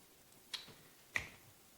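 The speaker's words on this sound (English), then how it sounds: "Snap your fingers" Two crisp, close finger snaps ring out about half a second apart in a quiet room, with a third starting just as the sound ends.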